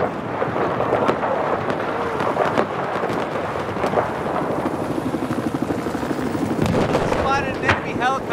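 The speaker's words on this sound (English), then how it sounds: "Spotted an enemy helicopter." An enemy helicopter in a Battlefield game: a loud, continuous rotor roar with a rumbling, storm-like wash, plus brief chirping effects near the end.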